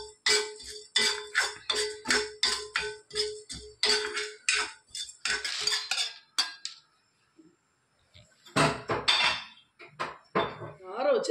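Roasted gram being stirred lightly in ghee in a pan, a rapid run of close metallic scrapes and clinks of spoon on pan, pausing briefly, then a few more strokes.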